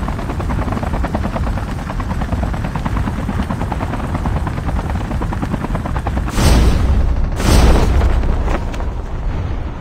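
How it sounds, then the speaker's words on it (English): A helicopter in Call of Duty Mobile battle royale churns with a loud, steady rotor chop throughout, and two heavy explosive bursts land near the end. "We can't steal this chopper!"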